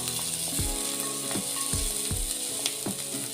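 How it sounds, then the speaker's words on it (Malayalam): Onions frying in a pan for onion rice give a steady close sizzling hiss, broken by about six rhythmic scraping, ratchet-like strokes of a utensil against the pan. No voices. "ഉള്ളി നല്ലപോലെ പൊരിഞ്ഞ് വരണം"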